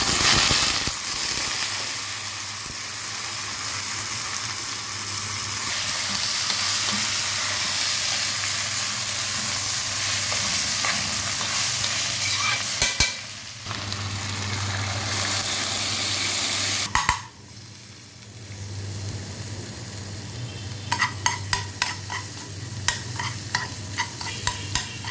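Vermicelli and rice fried and stirred in a pot, a loud continuous sizzle and hiss with scraping stirs, briefly dropping around the middle, then resuming with sharp clinks of a spoon against the pan near the end.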